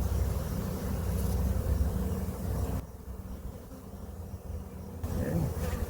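Honeybees buzzing during a beehive inspection, a dense close swarm hum that drops briefly quieter midway before swelling again.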